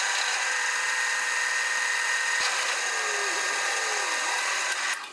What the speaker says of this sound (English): I'll drill the hole.